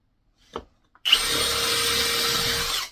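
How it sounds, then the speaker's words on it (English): A power drill bores a pilot hole into wood for a swift nest box. A brief knock comes first, then a steady, loud whirring grind runs close by for about two seconds and stops. "So I'm just going to make my pilot hole first."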